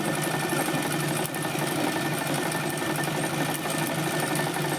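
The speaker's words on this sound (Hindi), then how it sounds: "इस तरीके से मैं इसमें स्ट्रेट स्टिच लगा लूँगी" A sewing machine runs a straight stitch on a lehriya garment, giving a dense, steady mechanical whir with a rapid needle chatter that dips briefly once before resuming, close up and with nobody talking.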